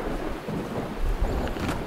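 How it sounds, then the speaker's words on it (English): Rain and rumbling thunder in the Far Cry 3 video game, a steady broadband wash of rainfall with deep low rumbles swelling in the second half, continuous and fairly loud with no talking. "Oh crap, it is raining."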